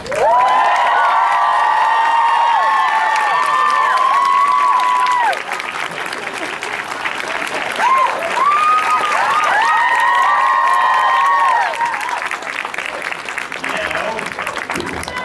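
Audience at a Toronto Comic Con panel applauding, cheering and whooping loudly throughout, with high shouts and whistles over steady clapping, easing slightly midway before swelling again.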